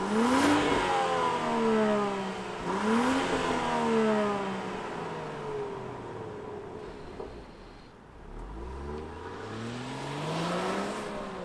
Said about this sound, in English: Let's fire this up and see this big long Defender hit the road